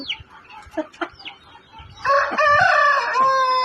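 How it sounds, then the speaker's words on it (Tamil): Peruvidai country chickens cluck close by, then a Peruvidai rooster breaks into a loud, drawn-out crow that fills the rest of the moment. "இந்த கோழி பாருங்க எல்லாமே பெருவடை கோழி பெருவடை சேவல் தான்"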